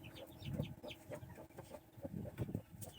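Young chicks peeping and cheeping in a cluster of short, high calls, close by, with soft rustling between the chirps.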